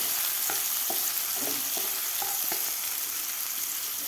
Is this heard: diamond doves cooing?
no